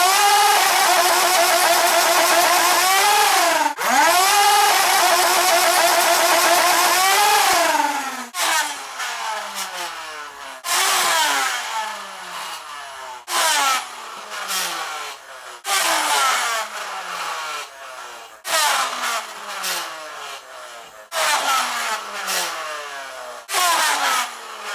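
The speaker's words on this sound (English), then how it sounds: "the Rapidstrike is shooting really hard and it has a really good rate of fire" A motorized Nerf Rapidstrike with a stock and barrel attachment, flywheel motors whining up and down at first, then bursts of rapid dart fire in repeated sharp clusters with motor spin-up, close and loud.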